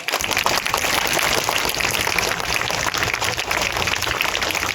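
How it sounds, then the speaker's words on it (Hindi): Villagers applaud a group of children about to perform a street play on women's and adolescent girls' health. The clapping is dense and continuous and somewhat rough and noisy, holding a steady level throughout. "पूरी जोरदार तालियों से इनका हौसला बढ़ाइए"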